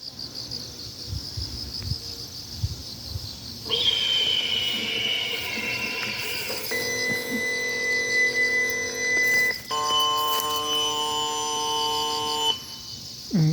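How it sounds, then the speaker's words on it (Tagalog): An alarm at an apple farm near a highway in Paju, Korea sounds as steady high-pitched electronic tones with a shrill buzzing texture that shifts pitch in stages, loud and continuous over faint background rumble. "Alarm nila, alarm talaga."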